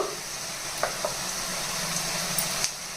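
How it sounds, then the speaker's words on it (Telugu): Ginger garlic paste fries in a hot pan with turmeric, giving a steady close sizzle and hiss, broken by a few faint scrapes and taps of a spoon against the pan. "అల్లం వెల్లి పేస్ట్ పచ్చివాసన పోయేంత వరకు వేయించాలండి"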